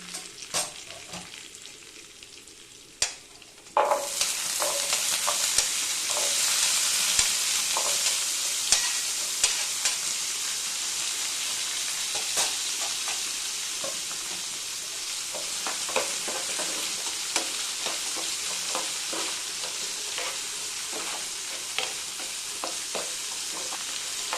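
Shallots frying in hot oil with curry leaves for an Andhra gongura dish, a soft crackle that bursts into a loud steady sizzle a few seconds in, dotted with sharp pops and stirring clicks throughout.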